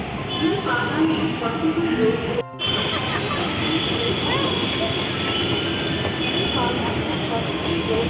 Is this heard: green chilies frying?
no